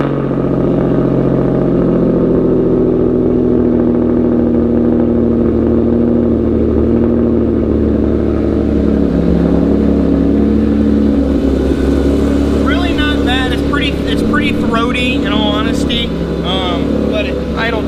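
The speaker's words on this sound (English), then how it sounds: "So here's a cold start." Cold start of a turbocharged 3.7-liter engine with a catted Y-pipe into stock 2 1/4-inch pipes and a Roush axle-back exhaust, a steady loud idle drone that keeps rumbling with a slight rise in pitch, with talk over it near the end.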